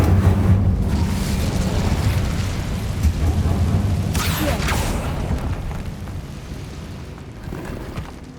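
In the Hogwarts Legacy video game, the Incendio fire spell goes off as a deep, rumbling roar with a whooshing flare, loud at first and then slowly fading across several seconds.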